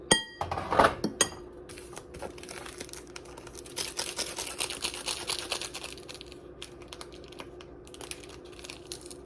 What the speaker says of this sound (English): I'm gonna get these noodles in here, just plain noodles today